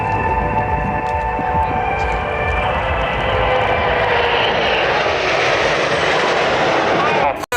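Fixed-wing aerobatic display team jets roar loud and continuous overhead during an air show at RAF Leuchars, the engine noise swelling and sweeping past with a commentator talking over it.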